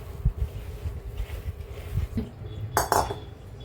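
Soybean curry being stirred in a pan with a utensil, giving soft scraping under a low kitchen background, with a bright metallic clink near the end.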